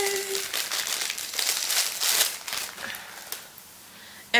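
A taped beauty box package is being opened, with crinkling and tearing of tape and cardboard in bursts of rustle, close and fairly loud, ending with a short knock.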